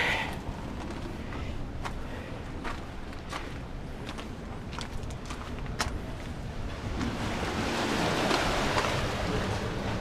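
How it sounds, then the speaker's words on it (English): Seawater surges and washes into a sea cave along the rocky coast on the Road to Hana in Maui, a continuous near roar of churning surf with crackling spray that swells louder toward the end. "another sea cave where the water's coming up"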